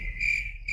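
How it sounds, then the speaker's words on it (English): Steady cricket chirping, a continuous high trill that dips briefly and resumes, played alone as a sound effect during a live comedy show. "I didn't know where the cricket sound effect was."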